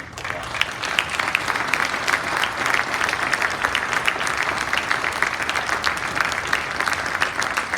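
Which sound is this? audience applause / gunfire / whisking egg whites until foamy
audience applause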